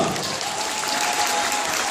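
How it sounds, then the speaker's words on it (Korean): Wedding guests at a wedding hall in Jinhae, Korea, clapping together in a steady, dense burst of applause that holds at an even level throughout. "여러분 박수 부탁드리겠습니다."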